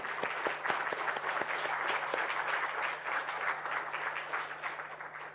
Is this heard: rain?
no